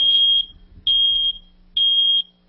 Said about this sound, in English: what a smoke alarm sounds like